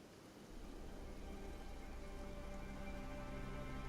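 Steady rain hiss in the video game Kenshi, a soft, even wash of falling drops that swells in at the start and holds at a constant, fairly quiet level.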